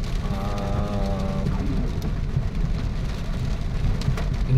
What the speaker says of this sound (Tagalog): inuulan tayo dahil sa bagyong Enteng.